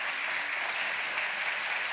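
A studio audience on a television quiz show applauding, a dense, even wash of clapping that holds steady for the whole two seconds with no voices over it.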